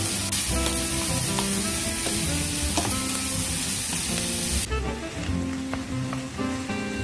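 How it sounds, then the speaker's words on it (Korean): Onions and chopped vegetables stir-fry in a hot pan for a cream risotto, giving a steady, close sizzle with scattered crackles throughout, over a faint tonal hum and no talk. "양파가 조금 투명해지면 썰어놓은 야채들을 모두 넣고 볶아주세요."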